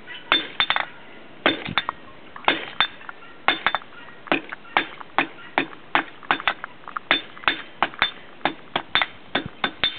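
Blacksmith hammering a steep taper into the end of a steel bar while forging a leaf, with sharp ringing metallic blows in irregular bursts and quick doubled strikes, close and loud with no talk.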